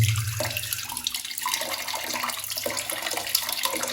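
Water runs steadily from a tap in a continuous broadband hiss, with some low rumble underneath and no talking.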